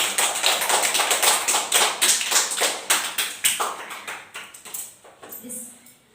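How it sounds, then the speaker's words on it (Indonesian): A classroom group claps in a quick, steady rhythmic pattern, crisp and close, that slows and fades toward the end. "Benar semua berarti ya? Kasih tepuk tangan."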